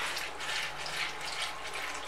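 Steady running water pours over poha (flattened rice) being rinsed in a strainer, a continuous close splashing rush with no pauses.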